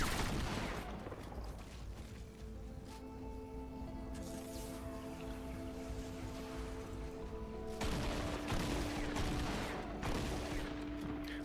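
Turret fire in Fortnite Save the World, a steady clatter of shots alongside mechanical hums and tones, continuous and fairly loud throughout.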